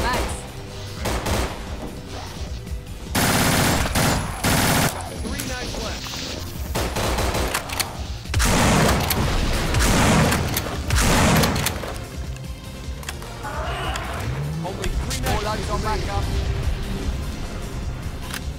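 Rapid automatic gunfire from an upgraded gun in the zombie shooter No More Room In Hell rattles in loud repeated bursts, near and harsh, with a few quieter stretches between volleys and a voice briefly underneath.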